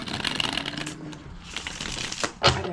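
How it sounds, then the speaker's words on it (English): Tarot cards shuffled by hand in a rapid, papery riffling that runs steadily throughout, with a sharper snap of the deck near the end; no one speaks. "Give the cards a shuffle."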